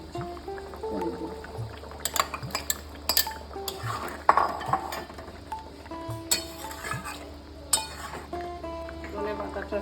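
Fried paneer pieces go into a pan of potato and paneer curry with a thickened gravy, producing a steady run of clinks, scrapes and stirring clatter from utensils against the pan, fairly close, with a few sharper knocks.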